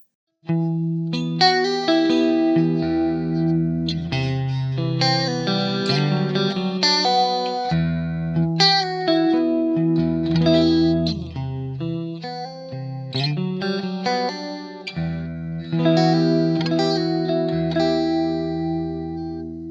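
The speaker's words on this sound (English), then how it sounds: "Now we're going to go clean again for some chorus." A clean electric guitar through a Blackstar St James amp plugin plays a flowing melodic passage with a shimmering chorus effect, notes ringing and overlapping, loud and alone with no voices.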